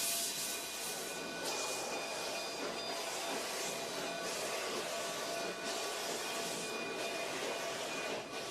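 D&RGW narrow-gauge steam train departing Antonito in Colorado's San Luis Valley, a steady loud hiss and rumble of the moving train with faint rhythmic rail clatter throughout.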